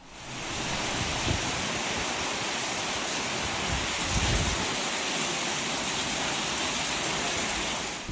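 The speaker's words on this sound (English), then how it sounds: "it drizzled a few times, but it really rained" Heavy rain pours down in Grenada, a steady, dense wash of noise lasting the whole stretch, loud and even with no voices.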